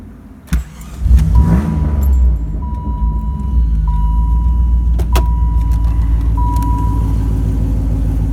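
A Jeep with a muscle-car engine cranks and fires up, then settles into a steady, loud low idle that rumbles on close by, with a few faint clicks over it.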